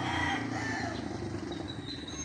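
A Thompson White fighting rooster crows faintly amid a busy rural backdrop of other fowl and ambient noise, the call partly blending into the surrounding clucking and hum.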